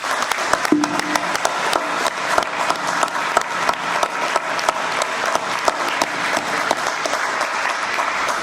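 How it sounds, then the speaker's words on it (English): Sustained audience applause at an aviation symposium, dense clapping from a large crowd filling the whole stretch at an even, fairly loud level. "Please join me in giving these guys a massive round of applause."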